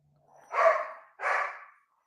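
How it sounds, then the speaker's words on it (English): Dogs give two close, muffled barks or woofs in quick succession, fairly faint and alone, with silence on either side. "Sorry about the dogs, guys."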